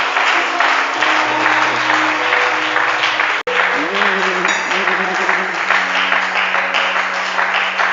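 A church congregation applauds the Holy Spirit during a French-language worship service, a loud, sustained wall of clapping from a crowd, with a steady musical tone beneath it and a brief drop-out near the middle.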